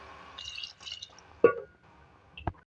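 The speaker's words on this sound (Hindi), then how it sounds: "अब हम ग्रेवी के हिसाब से पानी ऐड करेंगे।" Water is added to a pot of beef korma for gravy, heard as a few quiet drips and then two brief splashes close by in a kitchen, with no talking.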